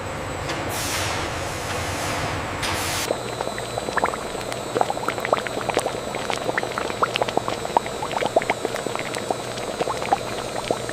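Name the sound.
blueberry mixture boiling down into syrup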